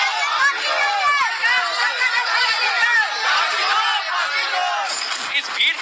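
An angry crowd shouts its demands all at once, many overlapping raised voices and cries in a loud, dense, continuous roar outdoors.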